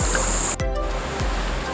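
Water flowing at a creek crossing on the Goldfield Track in tropical North Queensland: steady close rushing wash fills the whole stretch, broken by a few low thumps of movement through the water.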